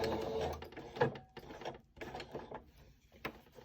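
A serger sews a cloth face mask, back stitching in short bursts of quiet clattering and ratcheting mechanism noise with brief pauses between runs.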